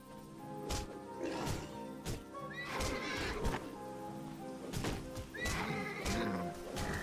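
Repeated horse whinnies and hoof clatter in Titan Quest, mixed with sharp whacking impacts and sustained background music, several bursts spread across the scene.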